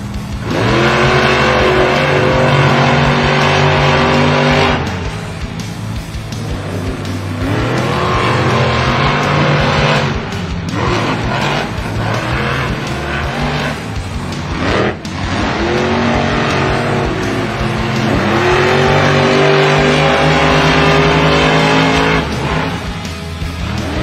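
Monster trucks roar around an arena track at the Monster Jam World Finals qualifying, engines revving and surging loudly without break, with heavy throttle swells and crowd noise mixed through the whole stretch.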